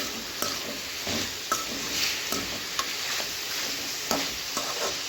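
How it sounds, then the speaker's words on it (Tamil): Stirring chicken gravy in a pan on the stove, with a steady sizzle and frying hiss under a series of scraping, tapping spoon strokes at irregular intervals, close by and moderately quiet, with no talking. "சேர்த்துட்டு இப்போ நல்லா மிக்ஸ் பண்ணிக்கலாம்."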